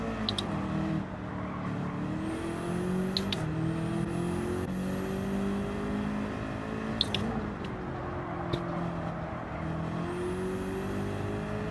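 Race car engine in Gran Turismo 7 drones steadily with rising and falling pitch as an opponent overtakes, engine tones shifting through gear changes, with brief tyre or contact clicks over a constant mechanical hum.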